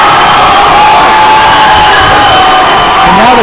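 Loud crowd cheering and shouting fills a high school basketball gym, Toppenish versus Ephrata, as the game heads into overtime. The roar is dense and continuous, with whoops rising above it.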